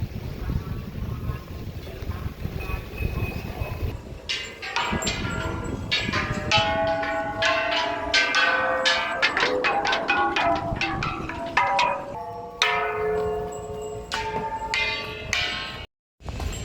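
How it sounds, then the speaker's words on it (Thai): A temple bell is struck with a wooden stick in a series of ringing strikes, close and resonant, each tone ringing out and overlapping the next, with faint background chatter and outdoor noise. "เอาไม้มาตีระฆังก่อนทุกคน"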